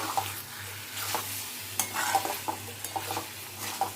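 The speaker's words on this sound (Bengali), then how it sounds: "দিয়ে চিকেনটাকে ভালো করে নাড়িয়ে" Chicken coated in chicken masala and garam masala is stirred in a pan while frying. Steady soft sizzling runs under repeated scraping strokes of a spoon, close and distinct, with no talking.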